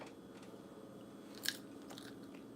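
A bite into a crunchy air-fried tortilla pizza, one sharp crackling crunch near the middle over a low steady background hum.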